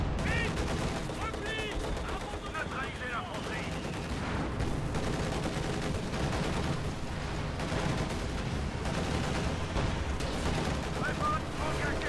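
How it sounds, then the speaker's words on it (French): Repeated booming gunfire and cannon blasts in a busy Company of Heroes 2 game soundtrack, dense and loud throughout, with music and effects layered over it. "il y a un canon qui nous tire dessus"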